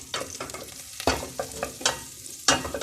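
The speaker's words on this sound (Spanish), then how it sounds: "Vamos a poner el ajo, vamos a esperar que se sofría un poco." Garlic sautéing over low heat in a pan for a red pepper cream, with a soft sizzle and several sharp spoon-scrape clicks as it is stirred, close and clear with no talking.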